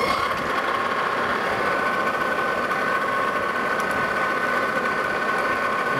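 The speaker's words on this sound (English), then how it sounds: "And just put a little chamfer in there." A machine tool cuts a small chamfer on a steel leveling screw foot, a steady droning whine with a constant tone that holds evenly for several seconds, close and fairly loud with no talking.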